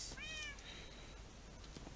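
A cat meows in the Minecraft modpack Resonant Rise 3, one clear rising and falling meow near the start followed by a fainter trailing cry, over a low background hum.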